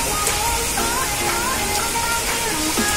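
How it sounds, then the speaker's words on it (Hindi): Heavy rain pours down in a dense, loud hiss with scattered drips and splashes close by, while a voice talks over it. "इतना तेज बारिश आ रही है, यहाँ पे मेरे ऊपर भी पानी गिर रहा है"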